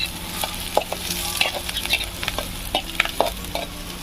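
Chopped spinach frying in hot oil in a pan, with steady sizzling broken by repeated scraping stirs of a spoon, close and moderately loud with no talking.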